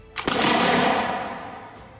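A single musket shot from a smoothbore barrel, a sharp loud crack followed by a long broad rumbling decay that fades over about two seconds, with no voices.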